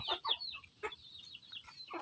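Free-range village chickens (ayam kampung) on a small farm cluck and chatter in a quick string of short calls, close by and fairly quiet.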